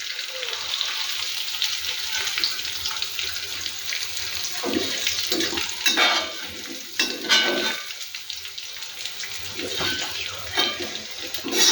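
Small sardine-type fish fry in hot oil with a steady, dense sizzle, broken by bursts of crackle and scraping as pieces are stirred and scooped out; the sound is close and loud, with no talk.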